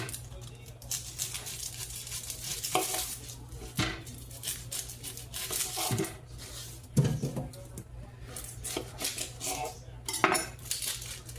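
A knife cutting an onion into slices in a home kitchen, with irregular close taps and clunks of the blade on a board, plus scattered clatter of utensils and a low background hum.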